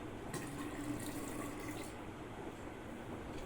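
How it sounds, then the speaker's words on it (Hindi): Cold tap water pours steadily into a flask, a continuous close rushing and splashing that runs without a break. "इस फ्लास्क को आप ठंडे पानी से भर लीजिए"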